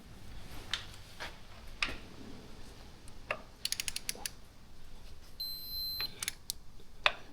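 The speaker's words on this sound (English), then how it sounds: "we're gonna torque these down at 90 foot-inch-pounds for the derby coat" A torque wrench tightens bolts on the derby cover of a Harley-Davidson during a 20,000-mile service, giving scattered mechanical clicks and a quick burst of ratcheting, close but fairly quiet, without speech.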